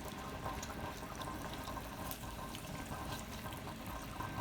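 Pondu simmering gently in a pot with a little added water: a faint, steady bubbling hiss that runs throughout without a break, low in level and with no voices.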